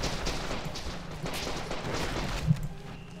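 AK rifle gunfire in the video game The Legend of Alfur, a loud, continuous stretch of shots and booming blasts blurring into a rough, noisy wash with a sharper hit near the end.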